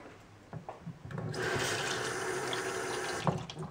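Tap water gushes from a faucet into a sink during a power outage, starting abruptly after a few faint knocks and running steadily and close for about two seconds before stopping.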